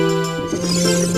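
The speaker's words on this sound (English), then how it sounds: "You've learned the Song of Storms." A short bright melodic phrase of the Song of Storms sounds in The Legend of Zelda: Ocarina of Time, clear sustained tones with soft game ambience behind them.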